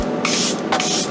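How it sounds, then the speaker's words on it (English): Two quick bursts of a fine aerosol setting spray spritzing onto a face close by, a short pause between them, with no talking. "I'm gonna go ahead and take my setting spray once again"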